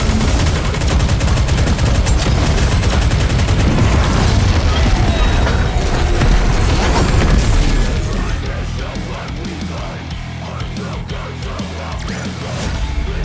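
Dense, continuous gunfire and explosions from the mobile shooter Nikke: Goddess of Victory, a loud, unbroken barrage that eases slightly toward the end, with some voices mixed in.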